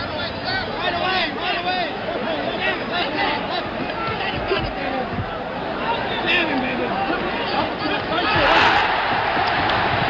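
Dense crowd roar and chatter at a 1977 George Foreman vs Jimmy Young heavyweight boxing match, a continuous surging wall of arena noise that swells louder near the end.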